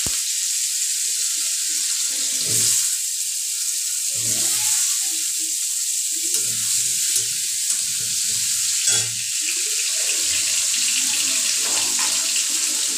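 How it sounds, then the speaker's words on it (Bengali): Cut potatoes fry in a pan with cumin seeds tempered in oil, a loud steady hiss of sizzling with occasional scraping and stirring knocks, close up and without speech. "আলুটা একটুখানি ভাজা ভাজা হবে।"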